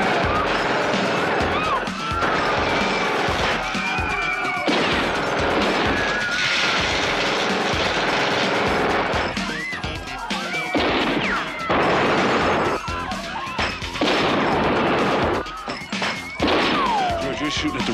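Gunfire and crashing impacts from a shootout in a 1987 action film, loud and dense with repeated bursts over a heavy score, with shouted voices mixed in.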